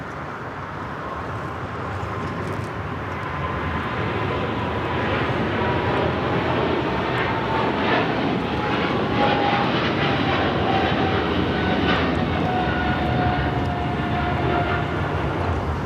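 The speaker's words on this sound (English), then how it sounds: "This is China Eastern Airlines Flight 586 taking off to Shanghai on the 777-300ER" A China Eastern Airlines Boeing 777-300ER takes off from Los Angeles International Airport, its twin-engine roar building from a moderate rumble to a loud, sustained, near thunder with whining tones sweeping across it.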